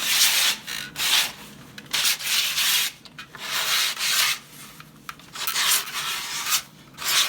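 Sanding strokes along the edge of skateboard grip tape, a scratchy rasping rub repeated in bursts of roughly half a second to a second with short pauses between, close up and alone.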